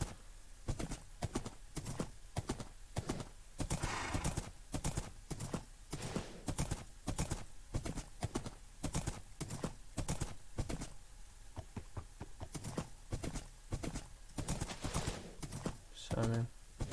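Minecraft horse hooves clip-clopping in a steady, even rhythm that keeps going the whole time, close and fairly loud.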